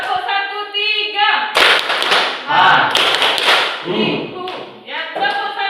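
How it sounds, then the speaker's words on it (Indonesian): A classroom group bangs out patterned claps, crisp clusters of hand claps arriving in bursts of one, two and three, close and loud, with a teacher's voice calling the pattern in the gaps. "Tepuk 1. Tepuk 2. Tepuk 3. Tepuk 1 2."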